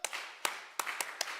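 Congregation clapping in unison during a Sunday morning church service, five sharp claps in a steady rhythm, with faint room murmur between them.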